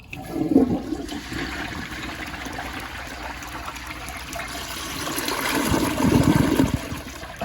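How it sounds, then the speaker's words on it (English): A 1963 Briggs forward-trap toilet flushing up close, a loud rushing gurgle that settles into a steady trickle of refilling water, then surges again near the end. "I'll do more and more flush, just like this."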